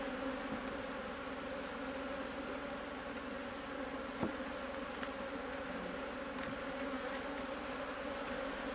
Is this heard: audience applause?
no